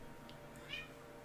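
A cat meows once in the video game Tales of Arise, a short, fairly faint call heard on its own against a low background hum.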